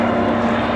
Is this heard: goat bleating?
no